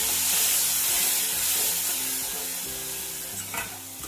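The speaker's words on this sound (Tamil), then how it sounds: "அரைச்சி தக்காளியை போட்டு நல்லா கிளறுவோம்" Ground tomato paste stirred into a pan of fried sundakkai (dried turkey berry) for vathal kulambu, a steady loud sizzle with scraping stir strokes that gradually quietens, no talking.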